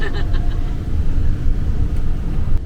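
Van driving on a rough road in rural Nicaragua, heard from inside as a loud, continuous low rumble of road and engine noise with irregular bumps.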